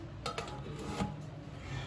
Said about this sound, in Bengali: টিফিনটা ঢাকা বন্ধ করে দিচ্ছি।